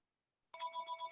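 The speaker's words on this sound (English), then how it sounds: "Sorry about the phone in the background." A telephone rings in the background during an online policy advisory committee meeting, starting abruptly after a moment of silence with steady repeated electronic bursts, fairly faint and with no talk over it.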